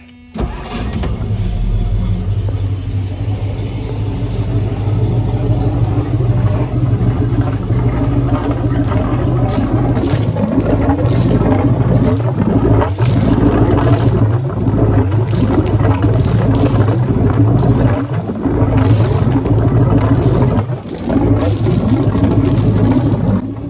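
A 1971 Century Resorter's inboard boat engine chugs steadily and loudly for a long stretch while being flushed of salt water through a garden hose, its low rumble joined by splashing, rattling noise throughout.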